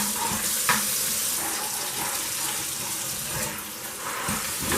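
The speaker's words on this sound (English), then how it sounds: "So just rinse off the chicken" Kitchen tap water running steadily over raw chicken in a colander, a continuous close splashing wash with a brief rise in the middle and no talking over it.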